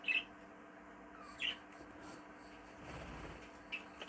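An opaline sky blue cage bird, a show bird, gives a few brief, faint chirps spaced a second or two apart over quiet room hum and soft background rustle.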